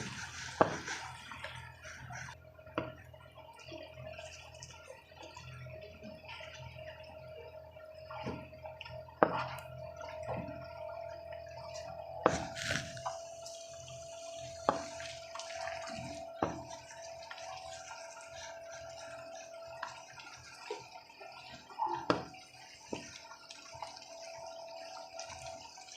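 Water trickles and drips intermittently into a cooking pot holding chicken and kachnar after frying with red chilli and salt, soft and close, with scattered small splashes and clinks.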